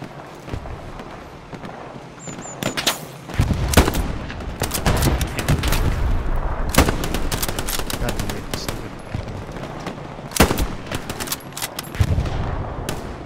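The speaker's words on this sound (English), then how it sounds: "Had to shoot the dude in the knee." Gunfire in the WWII shooter Hell Let Loose: loud, dense rifle and machine-gun bursts crackle almost continuously, with sharp nearby shots over rumbling distant fire and some wind noise.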